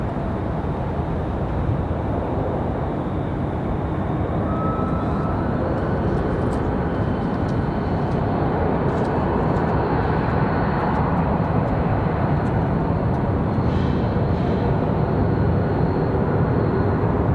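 A jet airliner rolls for takeoff at Raleigh-Durham airport, a steady loud broadband roar holding throughout with no voices over it.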